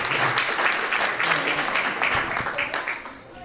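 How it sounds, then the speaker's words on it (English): Applause for England, runner-up to France in the 2024 WEPF Women's World Team Shootout final, fills the hall as a dense, steady wash of clapping with a few voices mixed in. "let's keep that applause going for your runner-up, England"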